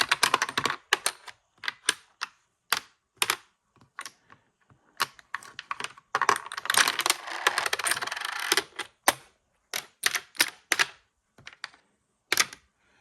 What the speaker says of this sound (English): You can already hear as I'm stacking the checkers up that the sound is quite loud.